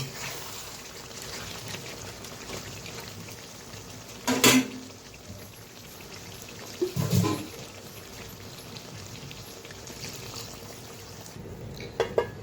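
Water poured into a pot of braised goat meat with papaya and potato, a quiet steady hiss of liquid with two brief louder clatters of pot and utensil.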